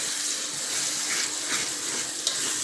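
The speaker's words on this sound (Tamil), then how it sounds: "நான் கொஞ்சமாக தண்ணி சேர்த்துக்கிறேன்" Water poured into chili paste cooking in oil for sambal ikan bilis gives a steady, close, rushing hiss with a faint sizzle throughout, and no voices.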